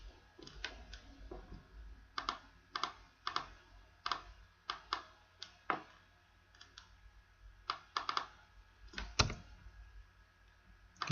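Irregular clicks of a computer keyboard being typed on during spreadsheet work, with sharp separate keystrokes and short pauses between bursts, close by and fairly quiet with no talking.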